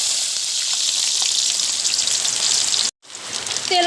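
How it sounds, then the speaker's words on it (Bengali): Chopped onion and green chili sizzle in hot mustard oil, a steady, loud, dense crackle that runs without a break, then cuts out abruptly for a moment before the frying resumes. "দিয়ে দিব সরিষার তেল, দিয়ে দিব পেঁয়াজ কুচি এবং কাঁচামরিচ।"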